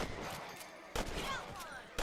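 Gunfire from a Red Dead Redemption rabbit hunt: a few sharp shots cracking out, one near the middle and another at the end, over a low game ambience.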